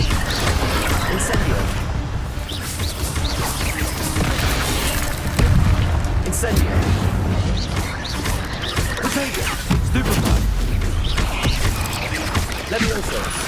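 Roaring magical fire blasts and rumbling booms from an Incendio spell in Hogwarts Legacy, a dense continuous wash of combat noise with heavy low rumbles, loud, with a voice shouting over it.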